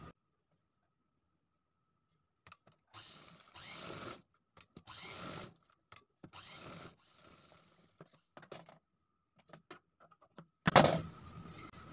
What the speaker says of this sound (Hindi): अब ये कपड़े को हमें इस तरह से फोल्ड करके सिलाई लगा देना है